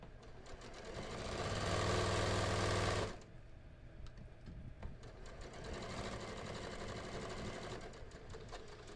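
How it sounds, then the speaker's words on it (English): Sewing machine stitching a seam on a stretchy knit skort, running fast and loud for about three seconds, then stopping and leaving quieter handling noises and rustle of fabric. "after you start sewing, stretch it a little bit as you go."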